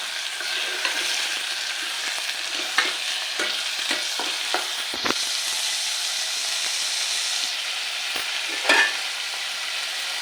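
Eggplant sizzles in a hot pan while a spoon stirs it, giving a steady hiss broken by a series of sharp scraping clicks and knocks against the pan.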